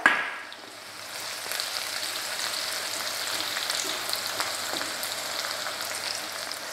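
Dry red chillies and garlic spluttering in hot oil for lasuni methi, a steady close crackle and hiss with scattered small pops throughout.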